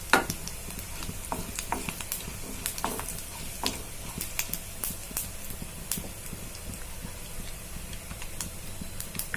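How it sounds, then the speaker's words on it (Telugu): Mustard seeds and cumin fry in hot oil in a pan for tempering, crackling and spitting in a dense, continuous close sizzle with frequent small pops, no voices. "ఆవాలు, కొద్దిగా జీలకర్ర వేసి వేయించుకుందాం."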